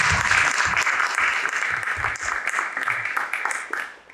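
Audience applause at an award ceremony for young writers' essays; a burst of dense clapping from a room full of people that continues steadily and fades out toward the end.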